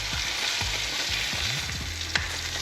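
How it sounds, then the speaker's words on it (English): A fish fillet searing in a hot, smoking pan during a lakeside catch-and-cook, a close, steady sizzle and crackle with small pops and shifting hisses, no talking. "put some in my pan, which is now smoking. Drop in fillet number 1."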